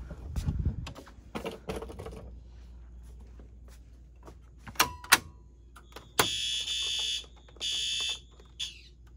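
Scattered taps and clicks of keys on a Vista 128FBPN fire alarm panel keypad give way to loud, piercing electronic alarm beeps in sustained bursts during a test, with a few sharp knocks in between.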